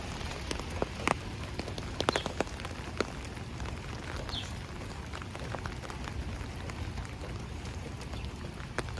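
Rain patters on a street in Howard Beach, Queens, a soft continuous hiss with scattered sharper drops and faint taps, fairly quiet throughout.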